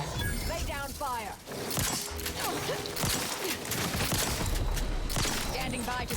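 Gunfire erupts as bears are shot in The Outer Worlds 2, with rapid cracking shots and shattering impacts spread across the fight, mixed with game sounds and a voice talking over them.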